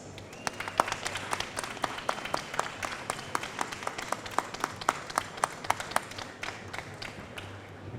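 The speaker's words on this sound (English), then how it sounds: "he deserves a much larger round of applause, please" Sparse, scattered clapping from an audience at the SiGMA Americas 2023 startup pitch event in Brazil, individual claps sharp and distinct over a low room hum, steady throughout without cheering.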